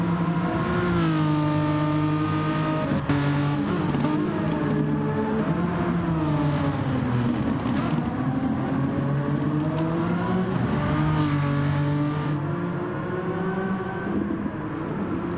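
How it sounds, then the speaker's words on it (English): Renault Megane Trophy Group 4 race cars at Blue Moon Bay Speedway in a racing video game, a loud continuous engine drone whose pitch climbs and dips repeatedly as the cars accelerate and shift. "Renault Megane Trophy Group 4 car at Blue Moon Bay Speedway"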